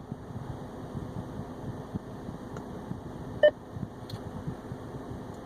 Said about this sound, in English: pressing the button, waiting for the beep